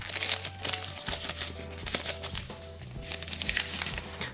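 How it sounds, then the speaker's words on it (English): A plastic bag is laid over a chocolate lollipop shaped like a horse in its holder, giving close, steady crinkling with light tapping handling noises throughout. "Put a lovely plastic bag on top of it."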